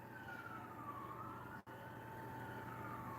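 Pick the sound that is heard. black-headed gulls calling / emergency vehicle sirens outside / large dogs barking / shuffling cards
emergency vehicle sirens outside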